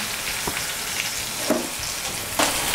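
Asafoetida stirred into hot oil with green chillies for a tamarind rice tempering, giving a steady sizzle broken by a few sharp scrapes of a spoon against the pan.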